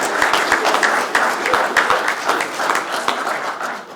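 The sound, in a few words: audience applause at citizenship ceremony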